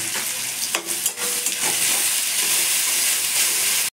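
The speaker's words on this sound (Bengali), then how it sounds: "একটু নুন দিয়ে নেড়ে চেড়ে নেবো" Sliced onions with a pinch of salt stirred in a frying pan, a loud continuous sizzle and hiss with a few scraping strokes of the spatula early on, close up and with no talking.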